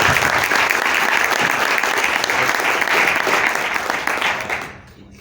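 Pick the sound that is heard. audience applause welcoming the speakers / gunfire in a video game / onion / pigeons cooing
audience applause welcoming the speakers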